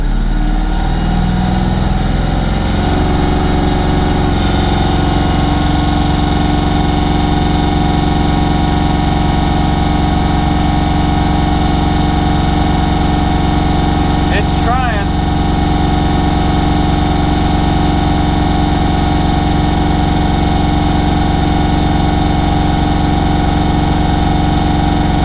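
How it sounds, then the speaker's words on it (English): A Bobcat tractor engine runs at maximum RPM, with a loud, steady mechanical drone that holds unchanged for the whole stretch and a brief click partway through. No one speaks. "let me put this at max RPMs and see what happens"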